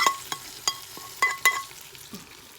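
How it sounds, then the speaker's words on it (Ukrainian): Fried onion and carrot being stirred into a chicken soup broth, giving a sequence of light clinks and scraping stirs with soft sizzling in between, close by and with no talk. "Ми засмажили цибульку з морквою і додаємо до нашої юші."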